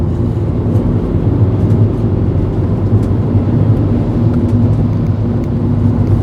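Engine of a vehicle on the road, a dense steady low drone with whirring tones, loud and constant, with no voices.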